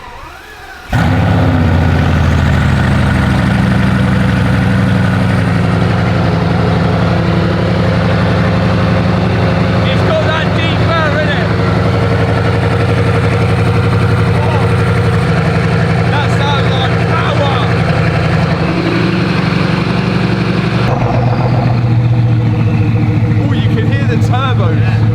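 A Bugatti engine idles with a steady low rumble, close by, while people talk over it throughout.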